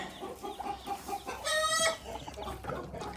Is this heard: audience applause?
no